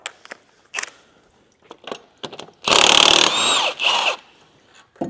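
A power tool with a 14mm socket removes an engine pulley, several short bursts of ratcheting whirr, the longest and loudest near the end, with clicks and handling noises in between.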